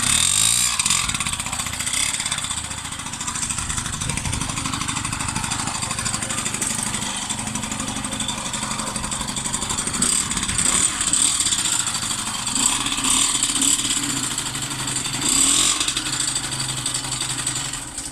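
A small moped engine with a new original-type exhaust, on an old scrapyard moped, drones continuously and close by through a rattly exhaust, with the revs rising and falling slightly and no talking.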